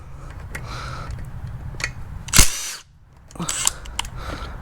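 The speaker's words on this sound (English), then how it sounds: "I'll see if this little Milwaukee impact driver can undo those bolts" A small Milwaukee impact driver tries to undo bolts during a Mercedes CLK500 engine swap, giving short bursts and one loud sharp burst with a snap, among softer clatter.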